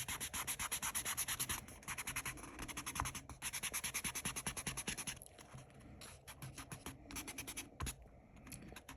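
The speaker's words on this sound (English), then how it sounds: "So I'm going to erase some of my grid lines." A kneaded eraser rubs out pencil grid lines on a small mandala drawing in quick, rhythmic scrubbing strokes, close and faint, pausing briefly between bursts.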